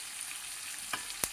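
Spices, green chillies and curry leaves tempering in hot oil for an ivy gourd and cauliflower fry, a steady soft sizzle with a couple of sharp crackles near the end.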